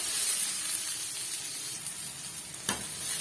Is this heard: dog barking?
no